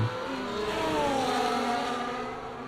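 Race cars in the F1 24 video game howl around the Jeddah circuit, several engines whining at high pitch and climbing and falling as they pass close by, loud and without talk.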